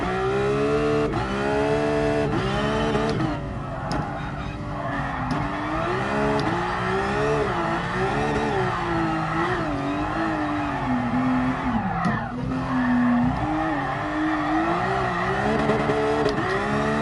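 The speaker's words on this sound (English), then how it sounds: "bouncing off the limiter in every gear" A race car engine in GT Sport at the Red Bull Ring drift challenge, revving hard and bouncing off the rev limiter in a loud, continuous buzzing drone with rapid pitch wobbles and brief dips, heard alone.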